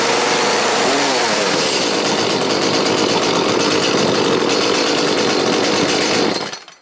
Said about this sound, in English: And then one hard pull, and engine should start